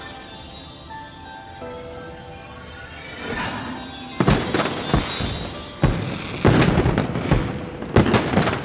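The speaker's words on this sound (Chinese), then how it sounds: "再为我放一次烟花。" Quiet hum at first, then a run of sharp fireworks bangs and crackles, several loud bursts in irregular succession close by.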